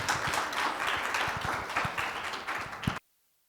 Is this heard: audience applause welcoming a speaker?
yes